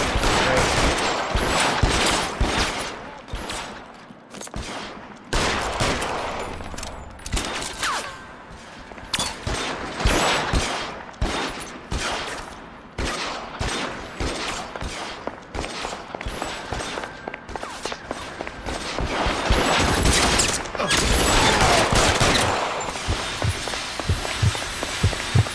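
Rapid gunfire from L.A. Noire, pistol shots cracking in dense, uneven bursts over busy game sound with footsteps, loud and close throughout, no talking.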